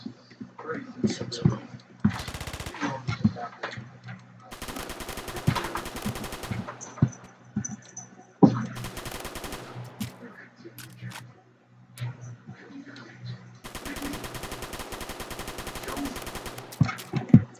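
Gunfire in a Roblox shooter game comes as loud dense bursts of rapid automatic fire separated by gaps, with a voice calling out in between.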